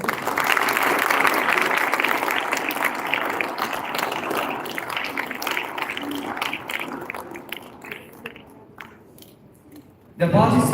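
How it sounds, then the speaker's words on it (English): Audience applause fills a school gavel club grand finale hall, loud and sustained for about ten seconds before tapering off, with a sudden louder burst of sound at the very end. "please give a huge round of applause"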